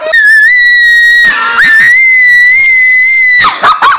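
Piercing high-pitched scream held into a microphone during a vocal range test, a loud sustained shrill tone that climbs, breaks briefly, then resumes before wavering off at the end.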